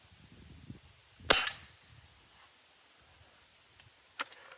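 A Beeman 1022 dual-caliber air rifle fires a single sharp crack at a target, followed seconds later by a softer second snap, in a quiet outdoor setting.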